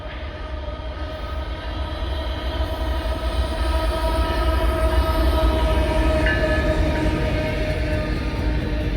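A freight train hauling containers rolls past at close range in snowy weather, a loud continuous rumble and clatter of cars with a steady horn-like tone held underneath throughout.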